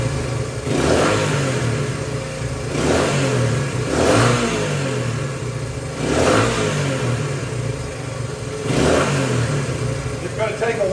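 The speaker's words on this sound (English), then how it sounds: "And first I'll try the revving thing." A 1972 Honda CT90 Trail 90 motorcycle engine is revved repeatedly, five loud rising bursts spaced about two seconds apart with the small engine idling between them, close to the listener.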